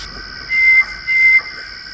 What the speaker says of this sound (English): With a final jubilant whistle